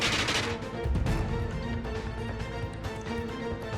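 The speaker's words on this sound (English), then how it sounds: "multiple machine guns erupted in fire" Machine gun fire in a visual novel scene as several guns open up at once. Dense, rapid bursts of shots form a loud, continuous rattle with no pauses and no voice over them.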